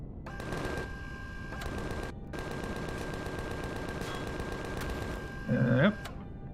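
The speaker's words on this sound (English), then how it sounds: "Who's shooting at me?" Turret gunfire in the space survival game Empyrion Galactic Survival, a steady sustained rattle of rapid shots that runs nearly the whole time with brief gaps, loud and close, while a voice speaks over it.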